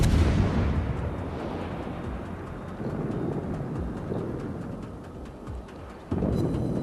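Heavy naval gun blasts from a cruiser in World of Warships, a deep booming report that rolls on with a long rumbling tail, followed by a second thud near the end amid battle ambience.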